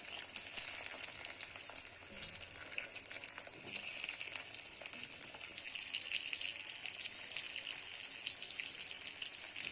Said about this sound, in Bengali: আলুটা একটু নুন হলুদ দিয়ে ভালো করে ফ্রাই করে নিচ্ছি হালকা করে